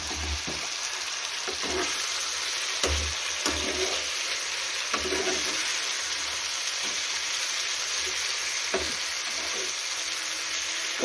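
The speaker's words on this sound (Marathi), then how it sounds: "कोरडं पण एकदम छान असं फ्राय करून घेऊया" Diced potatoes fry dry in a pan with crushed peanuts, sizzling steadily and close up, with soft scraping stirs every couple of seconds and no water added.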